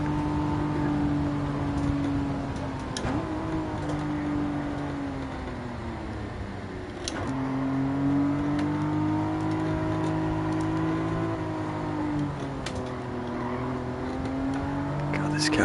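Racing car engine in Gran Turismo 7 on a mountain road, droning and revving steadily with pitch swings as gears shift, a voice talking over it throughout.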